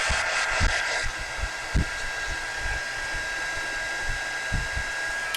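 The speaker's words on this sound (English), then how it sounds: "I need the heat gun just a minute." A heat gun blows in a steady, loud broadband whoosh up close, with a few soft knocks and thumps from handling underneath.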